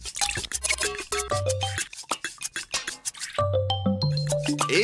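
Oil is whisked into a vinaigrette in a salad bowl, a close, quick rhythmic clatter and slosh of the whisk, with musical tones running underneath.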